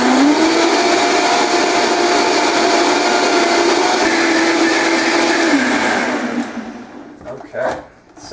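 A countertop blender whirs steadily at high speed, blending a smoothie with coconut oil, loud and continuous for about six seconds before winding down and stopping, followed by brief handling sounds.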